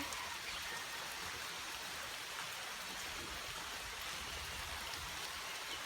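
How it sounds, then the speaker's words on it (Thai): Steady, even rain falls close by, a continuous dense hiss of drops with no breaks and no voices. "เห็นรอยฝนตกไหม"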